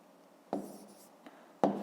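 A pen writes numbers by hand on paper during a fifth-grade maths exercise, giving two short, faint scratching strokes in a quiet room.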